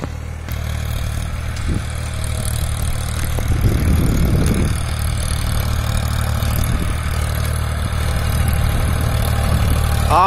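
A Powertrac 439 Euro tractor, a 42-horsepower machine working a cultivator, runs in high gear with a steady, loud low engine drone and a brief surge midway.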